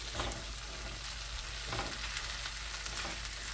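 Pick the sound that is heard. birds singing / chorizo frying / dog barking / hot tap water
chorizo frying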